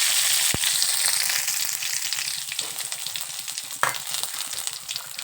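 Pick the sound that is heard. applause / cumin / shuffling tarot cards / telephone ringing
cumin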